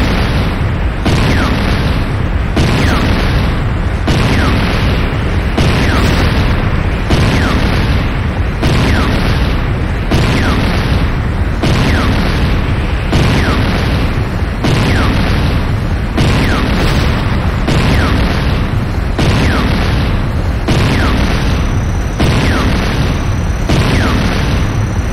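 Explosions batter a GDI weapons factory under attack in Renegade, the Command & Conquer shooter: loud, heavy booms land in a steady rolling rhythm, roughly one every second or so, with dense low rumble and crackle throughout.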